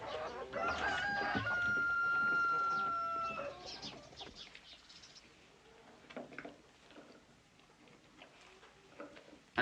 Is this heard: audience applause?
no